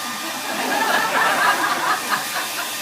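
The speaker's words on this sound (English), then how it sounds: "In your studio, would you use the hair dryer?" A hair dryer blows with a steady, broad whooshing hiss during a painting class, while faint voices and light chuckling murmur underneath.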